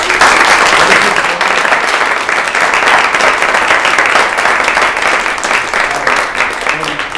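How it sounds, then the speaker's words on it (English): Audience at a climate change talk giving a sustained round of applause, a full, steady crowd of clapping lasting several seconds, with some voices mixed in. "So let's have a round of applause for that"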